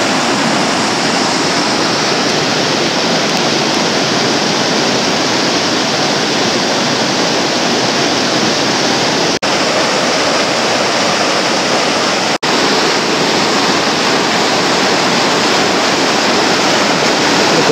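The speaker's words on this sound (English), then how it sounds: "This water's really rushing fast from that storm we had the other day" Fast storm-swollen stream water rushes steadily and loudly, a dense, unbroken roar like a swollen stream pouring over rocks close by.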